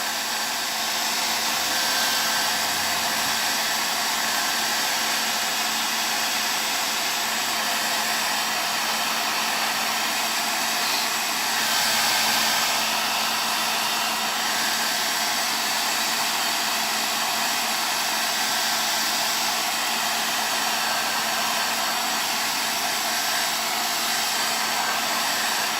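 A hair dryer blows continuously at steady high power to dry a light coat, a loud, close, even whoosh with a constant hum and no breaks, alone without any talk.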